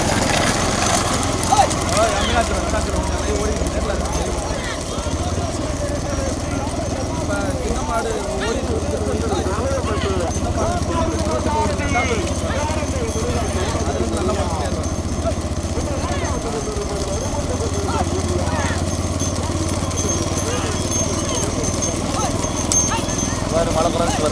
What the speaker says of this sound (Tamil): ஓட்டிக்கோ ராமா மாடு ஓட்டிக்கோ ஓட்டிக்கோ